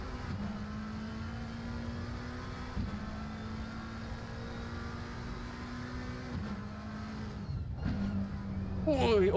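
A race car engine in a Nordschleife sim race, including a Porsche, drones steadily at high revs, briefly dropping and recovering a few times, then cuts out near the end as the car goes over a jump, with a voice talking throughout.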